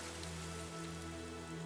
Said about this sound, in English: And now it rains because of Byleth's sadness for Geralt.